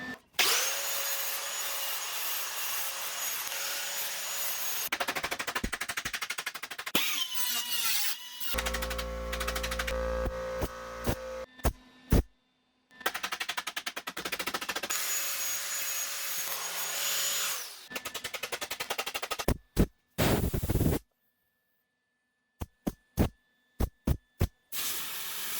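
An angle grinder works over welds on the steel lower valance of a 1966 Triumph GT6 during rust repair, grinding in long harsh bursts broken by pauses, a motor spin-down and scattered sharp taps near the end.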